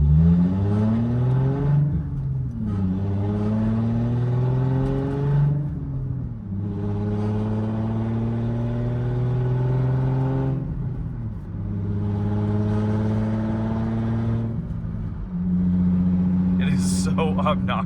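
A 1994 Acura Legend GS six-speed drives with a loud, obnoxious exhaust, its engine droning and rising in pitch through repeated gear pulls, steady and close for the whole stretch.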